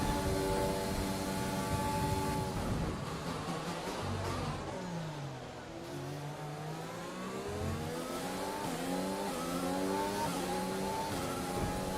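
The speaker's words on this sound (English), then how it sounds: "That is an extremely fast car." Race car engine in a racing video game revving hard and continuously, pitch climbing and dropping through gear shifts, loud and close with no talk over it.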